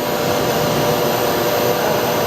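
Sub-spindle of a 2008 Doosan Puma 2000SY multi-axis CNC turning center with a 6-inch chuck spinning at about 1000 RPM, a steady whirring hum with a fan-like hiss, continuous and close throughout.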